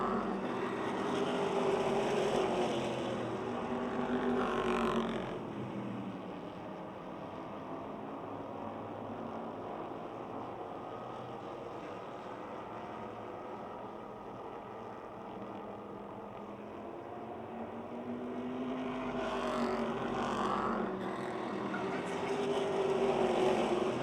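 Modified race cars at Motordrome Speedway run wheel to wheel in a 2006 race, engines swelling loud as the pack passes close, fading to a distant drone, then roaring back near again.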